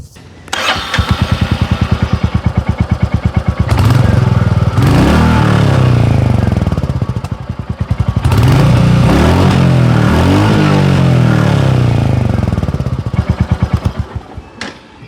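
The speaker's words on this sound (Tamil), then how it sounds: "இப்போ இந்த ராயல் என்ஃபீல்ட் மீட்டியோ 350யோட எக்ஸாஸ்ட் நோட் எப்படி இருக்குது அப்படின்னு நம்ம பார்க்கலாம்" A 2025 Royal Enfield Meteor 350 cruiser with a chrome exhaust starts up close by and settles into a thumping single-cylinder idle, then gets two rising revs that fall back to idle.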